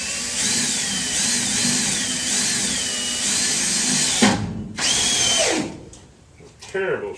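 A power drill drives self-tapping wood screws while shelves are being put up. Its motor whines loudly in one long run with a wavering pitch, then stops and starts in several shorter bursts.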